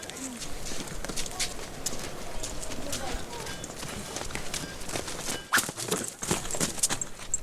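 Hooves of donkeys led by Bedouin children at Petra clip-clop in an uneven walking rhythm at moderate distance, mixed with outdoor bustle, a few bird calls and nearby voices talking throughout.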